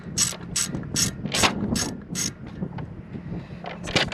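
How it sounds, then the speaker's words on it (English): Ratchet driving an 8mm deep well socket on an RV air conditioner, six crisp clicking strokes in a steady rhythm, then quieter handling noise and a final few clicks. "it takes an 8mm socket. I'm using a deep well."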